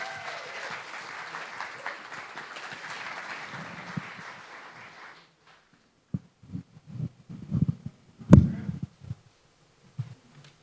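Audience applause for a live folk band at a Lincolnshire song event, a full, steady burst of clapping that fades out after about five seconds, followed by scattered thumps and handling noises.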